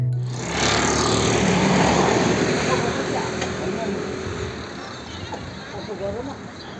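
A motorbike engine runs steadily with a rough, buzzing idle just after being started, loud and close, continuing throughout with a slight dip partway through.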